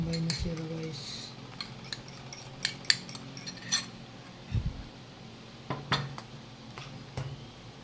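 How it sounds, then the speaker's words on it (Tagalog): Two eggs are beaten in a bowl for homemade fishballs, giving quiet, irregular clinks and taps of a utensil against the bowl with scattered sharper knocks. "batayan nyo yung egg, dalawa"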